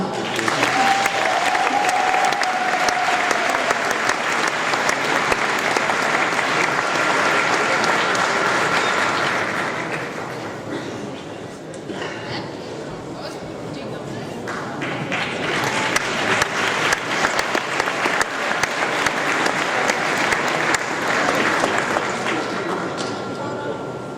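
An audience at an award ceremony for a mural named a New Wonder of Poland applauds steadily, the clapping dipping midway and then swelling again, with a voice speaking over it at the start.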